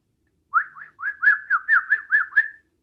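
A whistle imitates birdsong in a series of about nine short, chirping, warbling notes with a steady rhythm. The notes are clear and close, with nothing else heard.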